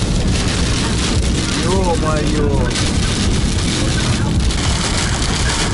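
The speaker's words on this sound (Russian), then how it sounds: "град пошел, надо срочно куда-то в деревья" Hail falls on a car during a road trip in the Republic of Buryatia, a dense, steady roar of pelting drumming on the roof and body, with a man briefly exclaiming under it.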